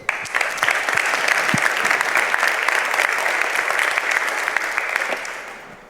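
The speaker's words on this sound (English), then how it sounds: "So give a round of applause to Freddy." An audience at a security talk applauds steadily and densely for several seconds as a speaker takes the stage, the clapping staying even before tapering off at the end.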